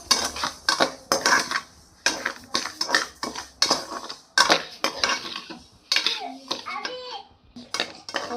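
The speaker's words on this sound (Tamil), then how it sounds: "பருப்பு எடுத்துருக்கேன். இதை லைட்டாக இப்போ வறுத்துக்கலாம்." Moong dal being dry-roasted and stirred in a pan for payasam, with a ladle scraping and clinking against the metal in repeated bursts, close and loud, while a voice talks intermittently.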